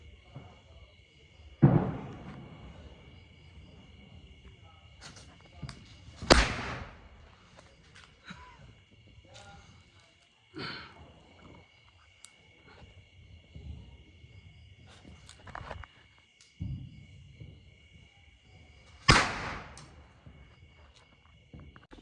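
Several sharp Diwali firecracker bangs go off one at a time, spaced seconds apart, over a steady high insect drone.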